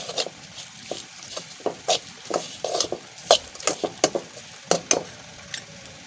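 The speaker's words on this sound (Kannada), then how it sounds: "ಇವಾಗ ಇದನ್ನು ನಾವು ಎಣ್ಣೆಯಲ್ಲಿ ಚೆನ್ನಾಗಿ ಸ್ವಲ್ಪ ಹೊತ್ತು ಫ್ರೈ ಮಾಡಿಕೊಳ್ಬೇಕು." Jackfruit seeds with green chilli masala fry in oil while being stirred, giving a soft sizzle broken by a steady series of sharp scraping clicks from the spoon against the pan, close and alone.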